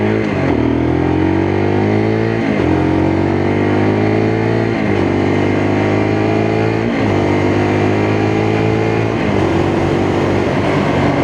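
A 2024 Lexmoto LXR motorcycle with a six-speed gearbox accelerates hard through the gears, loud close engine revs rising in pitch then dropping at each of roughly five quick shifts.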